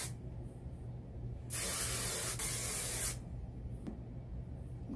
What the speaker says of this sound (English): Let's probably put some hairspray in it.